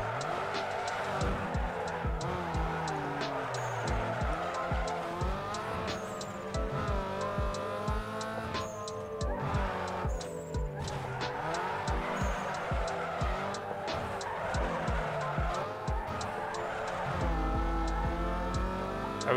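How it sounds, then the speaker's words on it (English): A tuned car drifting in Need for Speed Underground 2 with a steady, loud tire squeal over a revving engine that rises and falls through gear changes, sustained close up without pause. "Drifting."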